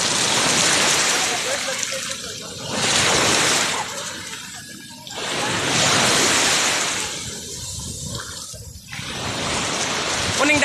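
Sea waves wash in at Maasim, breaking in loud, rolling surges every few seconds with a constant hiss of surf between them, heard close at the shore.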